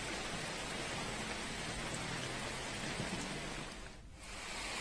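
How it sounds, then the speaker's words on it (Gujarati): Rain falling steadily in a rural Sihor taluka area during a storm with strong wind, a dense continuous hiss that briefly thins near the end, with no voices. "ભારે પવન અને ગાજવીજ સાથે વરસાદની શરૂઆત થઈ"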